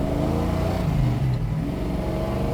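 A carbureted car engine revs steadily and loud, with the whine of the rear-end gears spooling up audible in the rumble, close and without talk.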